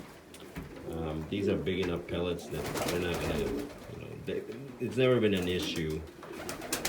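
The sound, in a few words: birds in a loft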